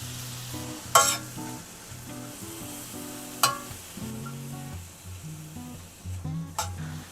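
Water and soy sauce poured into a hot pot of pork for braising, producing a sizzling, bubbling hiss with brief sharp splashes, close by and moderately loud, while soft background music plays.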